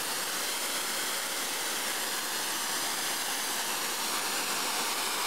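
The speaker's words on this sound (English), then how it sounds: "open the fuel valve until I get a full flame. And open up the oxygen valve until I get the sharp cone at the center of the tip" An oxy-propane cutting torch burns with a sharp-coned flame, giving a steady, even roaring hiss close up with no other sounds.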